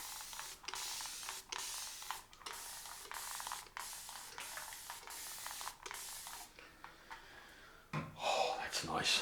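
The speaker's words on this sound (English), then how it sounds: "Let's just spray some more water on the subject." Rapid repeated bursts from a spray bottle mist water onto a head during a wet shave, close and hissing in a steady rhythm, followed by a breathy exhale.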